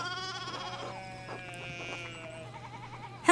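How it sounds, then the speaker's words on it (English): Sheep bleat repeatedly in Pentiment, several wavering cries overlapping above a steady low hum, fairly close and clear with no talking. "we need to get these sheep under control"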